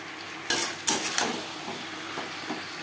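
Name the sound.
stirring drumsticks with potatoes and spices in pan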